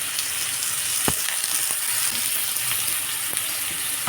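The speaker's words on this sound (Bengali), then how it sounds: "তো আমরা তেল গরম করে তাতে দিয়ে দিয়েছি হচ্ছে কাটা আলু" Cut potatoes and bitter gourd fry in hot oil, giving a continuous close hiss of sizzling with a few soft pops and stirring clicks.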